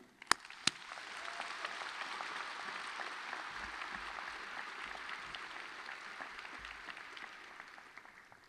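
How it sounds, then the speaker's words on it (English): Audience applause at a doctoral hooding ceremony, a sustained wash of many hands clapping in a large hall, steady and moderately distant, opening with a couple of sharp close claps before settling and tapering off. "Let's please give a round of applause to thank everyone who has been part of this journey."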